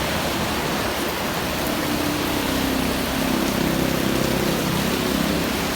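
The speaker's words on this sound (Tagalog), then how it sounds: "waiting kami par, para tumila ang ulan, hindi kami makasuyo. At sobrang lakas." Heavy rain pours down steadily, a loud, dense hiss of water hitting surfaces that fills the whole stretch without a break.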